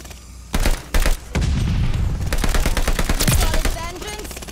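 Rapid automatic gunfire from a weapon in Call of Duty: Vanguard, first a couple of short bursts and then a long sustained string of shots, loud and close, with game sounds mixed in.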